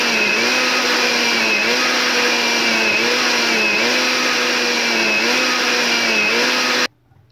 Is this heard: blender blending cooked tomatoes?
yes